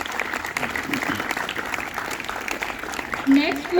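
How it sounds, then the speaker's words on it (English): A quiz audience applauds a correct biology answer, a steady burst of clapping from a room of students, with a voice briefly audible near the end. "A big round of applause for the 10th coaching again."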